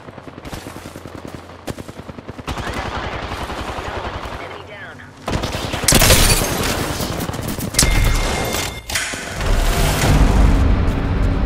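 Rapid bursts of automatic gunfire from an Apex Legends match, loud and close, with sustained volleys and booming shots crowding the later part, a voice speaking over the fighting.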